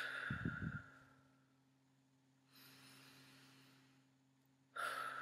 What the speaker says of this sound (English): let's take three deep breaths together